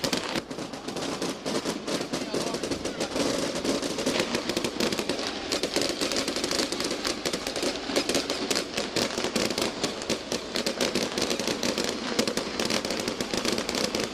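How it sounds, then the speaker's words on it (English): Dense, continuous crackling and popping of fireworks over a football stadium at Windsor Park in 2000, loud and unbroken throughout with no talk. "the fireworks at Windsor Park"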